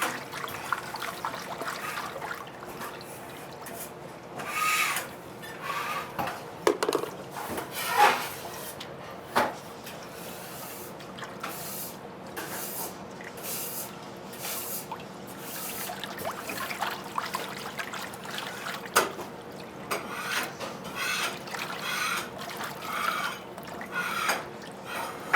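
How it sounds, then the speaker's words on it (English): Cheap Sicilian salt is stirred into water by hand for Napoli-style pizza dough, giving soft swishing, trickling and splashing sounds in irregular bursts, faint and close. "So you actually dissolve the salt by hand."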